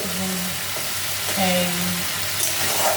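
Spice masala for an egg curry frying in hot oil in a pan, a loud, steady sizzle with a few scraping stirs and faint tonal hums underneath, no talking.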